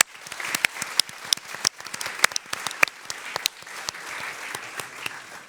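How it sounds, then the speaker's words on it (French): An audience applauds a speaker at a French conference on representations of old age, with dense, sustained clapping and crisp individual hand claps standing out across several seconds. "on vous applaudit,"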